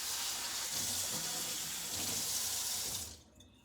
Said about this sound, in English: Make sure to wash your fingers.